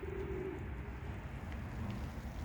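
Homing pigeons coo steadily in a loft holding eggs and young chicks, a low continuous murmur of overlapping calls close by with no talk.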